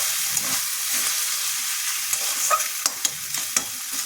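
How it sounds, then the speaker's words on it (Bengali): Poppy seed paste frying in a pan for an onion and potato posto dish, a steady close sizzle with light scraping clicks from a stirring spoon. "আমার পোস্তটা ভাজা ভাজা হয়ে গেছে"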